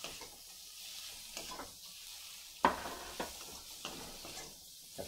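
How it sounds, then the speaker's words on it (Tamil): Chopped tomatoes sautéing in a pan for pumpkin soup: a steady close sizzle, broken by several sharp scrapes and knocks as a utensil stirs them, with no talking. "இப்ப இந்த தக்காளியை போடுறேன். தக்காளியை போட்டு ஒரு வதக்கு"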